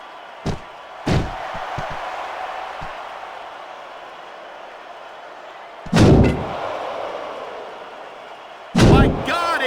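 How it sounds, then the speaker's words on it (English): In the wrestling video game WWE SmackDown vs Raw 2006, a wrestler is slammed onto steel steps, producing several loud, heavy thuds and crashes spread across the clip over a constant crowd roar. "Sickening thud from those steel steps."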